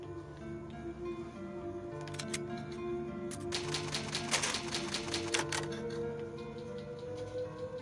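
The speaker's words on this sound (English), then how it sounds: "It's an old typewriter." Rapid clacking of keys on an old typewriter in the Resident Evil HD Remake video game, a dense burst of clicks set against a low, steady ambient drone.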